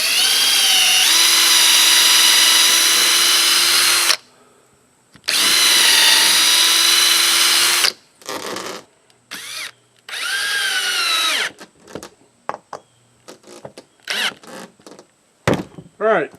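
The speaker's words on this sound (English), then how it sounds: "I really should go get the other drill so that I can keep the drill bit in one and the driver bit in the other." A power drill drives screws into a wooden ukulele display board, with two long whining runs followed by several shorter bursts and stop-start pulses, loud and close.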